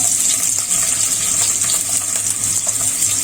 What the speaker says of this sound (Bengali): এখন আমি এতে দিয়ে দেব কুচনো পেঁয়াজ আর চেরা মরিচ